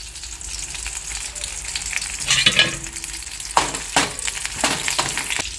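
Curry leaves and green chillies spit and crackle in hot oil in a pan, a loud close sizzle with several sharp bursts and stirring scrapes over steady frying, no talking.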